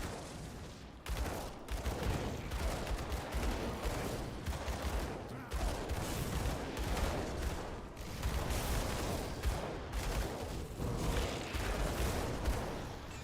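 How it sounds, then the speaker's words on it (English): Flashbang grenades and gunfire go off in a hardcore Grim Dawn fight, a dense, continuous barrage of bursts and booms that pulse repeatedly throughout, loud and close, with no voices. "just keep the flashbangs going"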